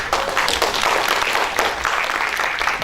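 Conference attendees at a materials and metallurgical engineering meeting clap for a keynote speaker, a lively burst of applause with distinct hand claps, steady and close.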